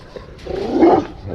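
A big dog barks once, loud and fairly close, on a quiet countryside lane, with soft outdoor ambience before and after.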